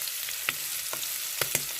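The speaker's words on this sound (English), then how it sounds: "We are going to fry it until it's golden brown." Tripe (matumbo) frying in oil in a pan, a steady close sizzle with a few sharp pops of spattering oil.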